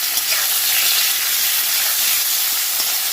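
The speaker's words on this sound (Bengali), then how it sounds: "আলুগুলো একটু হালকা তেলের উপরে নেড়ে চেড়ে নেব।" Boiled potatoes frying in hot oil with a pinch of asafoetida: a loud, steady, close sizzle and hiss with soft stirring, no talk.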